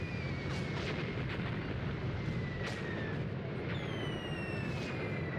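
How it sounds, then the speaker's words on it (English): Artillery rumbles steadily in the tank game Tank Warfare: Tunisia 1943, a constant low roar with several distant booms and whistling tones overhead. "I have a lot of artillery coming down."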